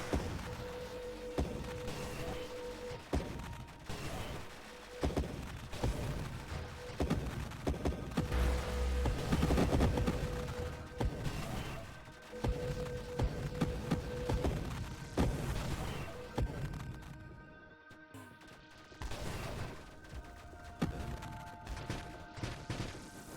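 A spaceship in the arcade shooter Nova Drift fires in rapid bursts of repeated shots over a busy layer of game effects and booms, loud and dense, briefly dropping out near the end before resuming.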